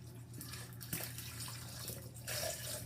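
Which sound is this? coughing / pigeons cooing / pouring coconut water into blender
pouring coconut water into blender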